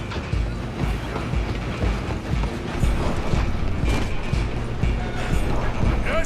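A steam train rolls along in Red Dead Redemption 2, a dense, loud, continuous rumble with rhythmic clattering and mechanical rattling throughout, no voices over it.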